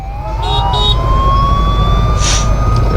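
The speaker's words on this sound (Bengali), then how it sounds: "অ্যাম্বুলেন্স ঢুকেছে আবার।" An ambulance siren wails on a busy road during a bike ride from Siliguri to Kolkata, a steady rising tone cutting over constant traffic rumble and engine noise, with a brief horn-like burst near the end.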